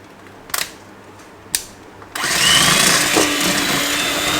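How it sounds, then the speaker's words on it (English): An electric mixer beats soft cream cheese for a cheesecake, starting up after two short knocks and then running as a steady, close whir. "So I'm just going to be beating it until it's nice and fluffy."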